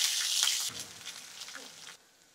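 Urad and chana dal tempering in a pan with chopped ginger, curry leaves and a dried red chilli, being stirred; a soft, brief hiss of sizzling oil fades after the first moment.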